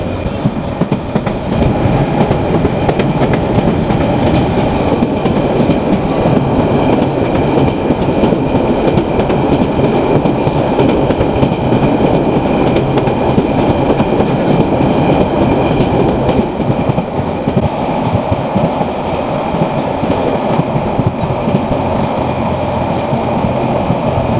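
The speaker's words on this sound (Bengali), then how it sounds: "সকালবেলা ট্রেন জার্নি করতেছি চট্টগ্রাম থেকে কক্সবাজার" Loud, steady rumble and rattle of the Saikat Express passenger train running from Chattogram to Cox's Bazar, heard from inside a carriage, with rhythmic wheel clatter on the rails throughout and no talk.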